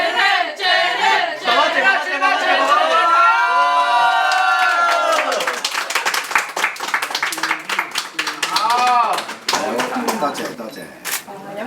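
A wedding crowd claps and cheers loudly right after a toast to the couple, hands rattling densely while voices and excited chatter carry over the applause.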